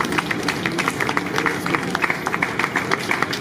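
Mourners at a funeral applaud for about a minute, sustained crowd clapping with distinct rhythmic hand claps standing out over a steady background of many hands, loud and close.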